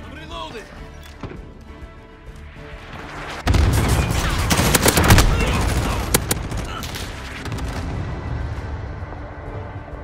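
Sentry gun firing in Call of Duty Modern Warfare, sustained rapid automatic fire kicking in suddenly and rattling loudly for several seconds amid other gunfire, with players talking throughout.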